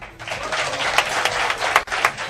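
Audience applause at an awards show after a winner is announced, a dense, continuous burst of clapping from a crowd with a few louder peaks.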